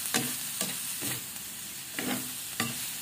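Beef innards for papaitan sautéing in a pan, with a spatula scraping and stirring in four or five distinct strokes over a steady low sizzle, close by and moderately loud, with no voices.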